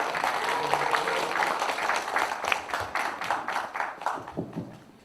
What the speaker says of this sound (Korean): 네, 박수로 한번 맞이해 주십시오.